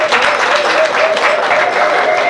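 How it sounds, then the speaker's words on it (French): Audience applause at a municipal installation ceremony in Batcham, loud, dense clapping from a close crowd that continues steadily, with a faint sustained tone beneath it. "Nous pouvons lui accorder des vases d'applaudissements pour cela."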